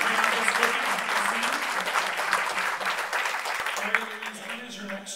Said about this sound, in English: another big round of applause for all the folks from the meeting house